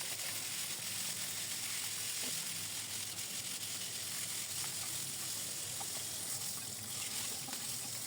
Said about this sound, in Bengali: ধুয়ে সুন্দর করে হলুদ মরিচ মেখে আমি তেলে দিচ্ছি